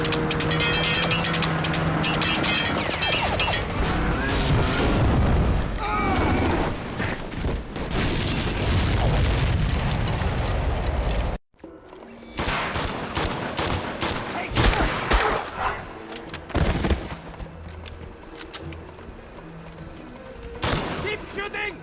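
Heavy gunfire and explosions in the James Bond 007: Blood Stone action game, a loud, sustained barrage of automatic fire and booms. A brief cut is followed by further shots and blasts, with shouted voices in between.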